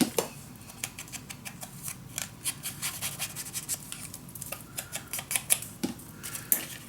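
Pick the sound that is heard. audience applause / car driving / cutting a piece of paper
cutting a piece of paper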